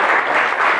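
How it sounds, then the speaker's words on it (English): Brief burst of applause from an audience at a literary reading event, dense and steady throughout, with no voices over it. "So can we get some applause?"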